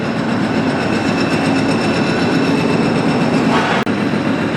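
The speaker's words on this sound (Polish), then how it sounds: "Słychać dziobak pracujący." A pneumatic breaker hammer works inside a tunnel construction chamber on a Łódź cross-city rail tunnel site, producing a loud, continuous, dense rattling clatter that echoes through the space, with one brief sharp knock near the end.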